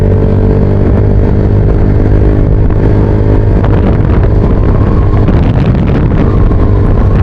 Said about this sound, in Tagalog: Ang lalakas ng motor.